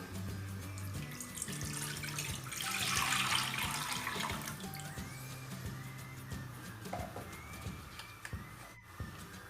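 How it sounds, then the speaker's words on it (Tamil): Water poured into a pot for boiling soya chunks, a faint splashing stream that swells for several seconds and then tapers off, with birds chirping in the background. "சோயா வேகிறதுக்கு தேவையான அளவு தண்ணி ஊற்றிக்கலாம்."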